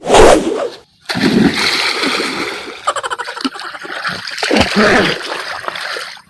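Water pours down onto people from an overhead tube-light fixture rigged up as a makeshift water park, a loud, steady splashing that stops for a moment and then rushes on, with voices mixed into the spray.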